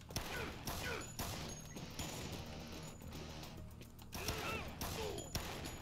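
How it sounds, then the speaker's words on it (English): Rapid bursts of gunfire from the video game Dead Rising, with repeated sharp shots and crashes clustered in two flurries, faint beneath occasional talking. "let me shoot him"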